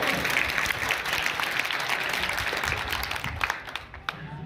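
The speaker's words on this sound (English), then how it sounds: "have a big round of applause for them also" Students and guests at a school annual day function in Shukoor Colony, Aaram Pora, give steady, dense applause that fills the whole stretch and tapers slightly near the end.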